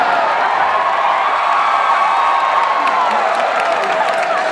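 Audience at an improv comedy show cheering and whooping, a steady, loud crowd roar held for several seconds.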